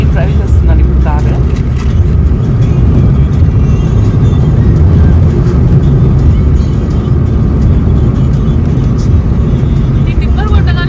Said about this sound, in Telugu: నేను డ్రైవ్ చేస్తున్నాను ఇప్పుడు కారు.